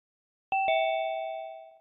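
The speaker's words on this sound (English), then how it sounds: "I love how it gives a little ding, like somebody's coming to your house, like hits the little doorbell" Two quick bright electronic chimes, a doorbell-like ding-dong from a device, ring out clearly in silence and let a clean tone fade slowly.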